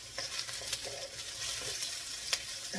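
Garlic frying in a pan at the start of a bitter melon and ground beef dish, a steady close sizzle with occasional stirring scrapes and crackles throughout.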